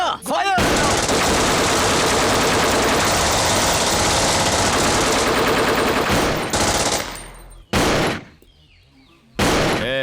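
Automatic gunfire in a Hindi-dubbed South Indian horror action movie scene roars as a long, dense, loud burst, followed by two shorter separate bursts after a brief pause.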